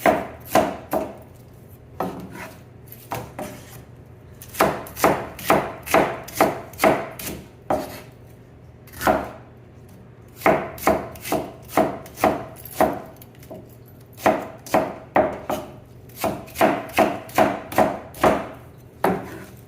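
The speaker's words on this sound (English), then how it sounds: "So you're going to cut everything equally so that they cook at the same pace." A knife chops bok choy on a cutting board in quick bursts of crisp, sharp knocks, several strokes at a time separated by short pauses, close and clear with no talking.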